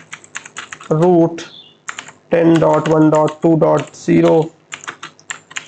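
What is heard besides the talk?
typing on a computer keyboard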